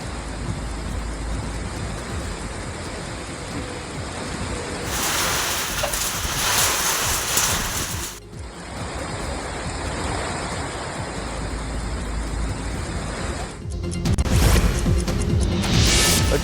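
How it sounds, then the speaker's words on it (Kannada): Heavy rain driven by strong wind lashes down in Dakshina Kannada, a dense roaring wash that surges in gusty bursts and briefly dips before rising again, with no voices. "ದಕ್ಷಿಣ ಕನ್ನಡ ಜಿಲ್ಲೆಯ ಹಲವೆಡೆ ಭಾರೀ ಗಾಳಿಯ ಜೊತೆಗೆ ಮಳೆ ಸುರಿದಿದೆ"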